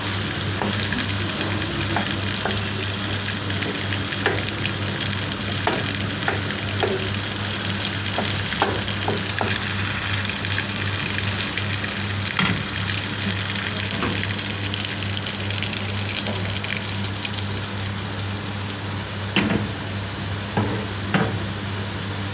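Fat melting in a hot pan while preparing Egyptian phyllo pastry with minced meat, a steady close sizzle with a constant low hum and occasional soft pops and ticks.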